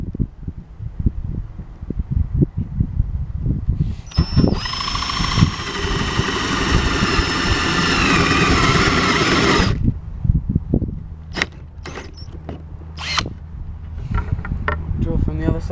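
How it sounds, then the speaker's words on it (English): A power drill whines steadily for several seconds as it drills holes in wood boards, preceded and followed by clattering handling noises and low rumble. "Let's get drilling."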